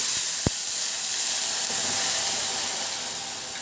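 Chillies and garlic splutter in hot oil as a tempering for Khandeshi urad dal, a steady loud sizzling hiss with one sharp pop near the start.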